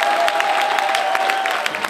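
Audience applause at an awards ceremony, a dense, continuous patter of many hands with a sustained tone running through it.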